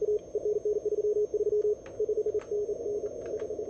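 Morse code CW sidetone sending a callsign during a CQ World Wide CW DX contest, a steady mid-pitched tone keyed in quick dots and dashes with short gaps, close and clear over faint radio hiss.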